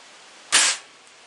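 A single short, sharp pop from an Umarex Airjavelin CO2-powered arrow air gun firing one shot, fairly quiet and isolated against a low background hiss.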